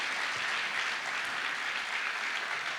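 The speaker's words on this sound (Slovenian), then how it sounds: "dajmo močno zaploskati" Audience applause filling a concert hall at Dom kulture Velenje, a dense, steady wash of clapping that holds at an even level from start to finish with no voices on top.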